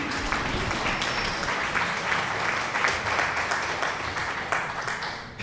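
Applause in Bloodborne: a dense, continuous wash of clapping from many hands, loud and unbroken from start to finish.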